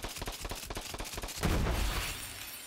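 The Night Flyer legendary pistol fires in Borderlands 3 as a rapid string of sharp, loud shots, followed by a shattering burst that trails off into a roaring rumble.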